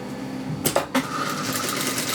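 A sewing machine stitches fabric in short bursts with a brief pause between runs, close and fairly loud, over a steady mechanical hum with no talking.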